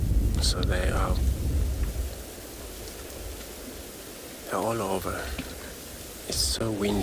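Strong wind buffets the microphone in a heavy, rumbling roar during a sunrise safari drive at Tswalu in the South African bush, with a voice speaking briefly in between gusts.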